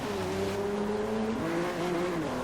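A supercharged Jaguar F-Pace in Forza Horizon 3 drones through its exhaust with a steady, loud engine tone that shifts pitch as it changes gear, close and continuous with no voices.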